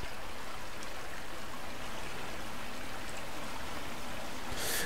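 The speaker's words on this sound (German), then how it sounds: "Und das Wasser plätschert." Running water splashes and burbles in Silent Hill 4: The Room, a steady, close, continuous wash like a stream that keeps an even level throughout without pauses.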